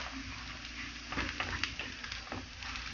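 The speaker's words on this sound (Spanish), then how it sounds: "estamos friendo en aceite muy muy caliente" Corn sizzles and crackles in very hot oil, a steady bubbling hiss with occasional sharper pops and stirring scrapes, close up.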